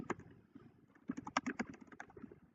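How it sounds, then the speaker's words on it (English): Keys clatter faintly on a computer keyboard as a name is typed, a loose burst of quiet clicks that gathers into a quicker run midway, with no talking. "You're going to click on it on the line. Type your name in."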